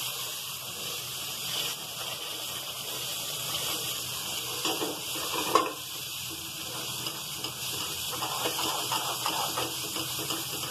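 Hot water hits roasted wheat flour in ghee for halwa, raising a steady close sizzle and hiss while a spoon stirs and scrapes the pan throughout.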